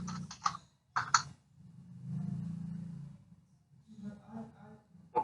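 Typing on a computer keyboard in a short burst of close clicking keystrokes, set against a low rumbling background, with a voice talking between and around the keys.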